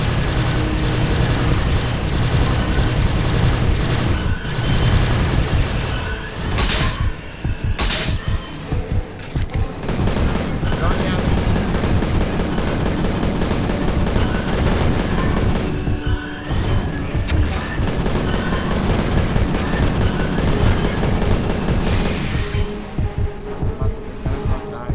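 Dense weapon fire from the 2006 shooter Prey rumbles and cracks almost nonstop through the whole stretch, with booming impacts and rapid bursts layered over a loud, busy game mix.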